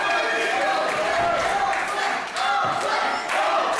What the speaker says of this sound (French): Et le public qui applaudit le champion, monsieur Antoine Bernard.